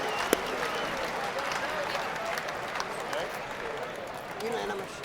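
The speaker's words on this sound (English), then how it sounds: "Big round of applause, ladies and gentlemen," A crowd at an amateur charity fight night applauds the two fighters, a fairly faint, even stretch of clapping heard from a distance.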